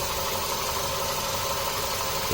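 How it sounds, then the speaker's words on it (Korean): A 2012 Renault Samsung SM5 LPI idling after repair of a stalling fault, giving a steady low rumbling drone at close range with no talk. "이렇게 시동이 지금 걸려있는 상태고"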